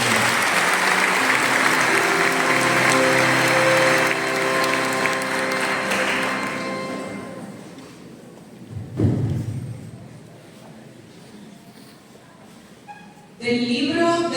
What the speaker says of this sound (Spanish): merecen doble aplauso